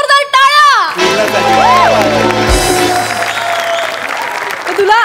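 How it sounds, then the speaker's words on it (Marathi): Loud audience applause with cheering fills a Marathi comedy show stage after a witty answer, steady and dense over a voice and music at the start, sustained to the end. "पूर्णाने मस्त उत्तर दिले, जोरदार टाळ्या."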